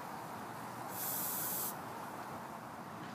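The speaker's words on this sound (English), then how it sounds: "The next thing you're going to want to do is to spray paint your chair until it's fully covered" A short burst of spray paint hisses onto a chair, about a second long and fairly faint over a quiet room-tone background.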